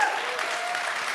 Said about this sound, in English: Please give a round of applause to our